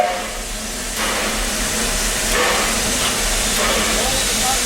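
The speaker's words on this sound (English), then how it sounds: "More steam." Steam from a Disney steam train locomotive hisses in a steady, loud broadband rush that swells and eases over a few seconds, with a voice faintly talking underneath.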